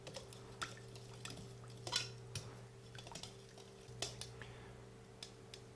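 Lemon marinade mixed in a bowl, faint scraping and clinking of a utensil against the bowl in irregular strokes, with soft wet stirring sounds throughout.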